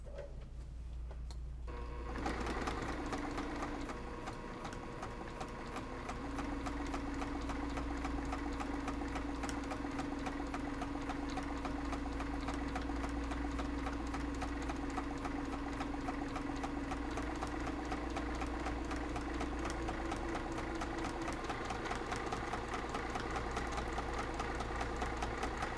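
A sewing machine does straight-line quilting at a 3.0 stitch length on a fabric zipper bag, running with a continuous fast rhythmic whirring and clatter, close and steady for most of the clip after a short quiet start.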